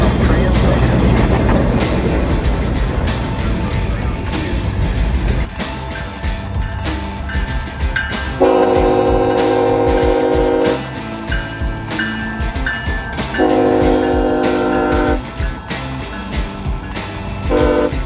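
A locomotive rolls past through snow with loud rumbling and clattering wheels, and its horn sounds in two long blasts partway through, close and dominant over the steady rail noise.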